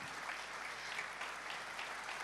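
A conference audience keeps clapping after an entrepreneurship talk, producing a continuous, fairly soft and distant wash of hand claps. The level stays even, with slight swells and no speech on top.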